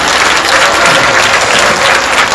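Worshippers at a Puritan theological seminary special lecture give a round of applause after the prayer: continuous, even clapping from many hands, close and loud, with no talk over it.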